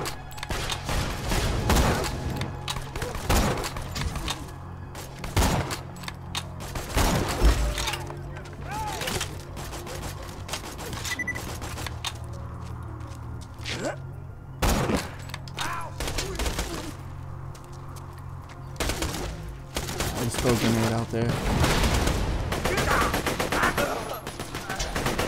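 Rapid video game gunfire from Borderlands 2 crackles in bursts throughout, with repeated shots and explosive pops over a steady backdrop of in-game sound.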